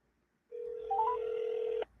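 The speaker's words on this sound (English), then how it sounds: "I'm going to place a quick call." A single steady telephone tone sounds for a little over a second as a call is placed, faint and clean with a slight warble partway through, with no voices.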